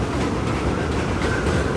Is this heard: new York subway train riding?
yes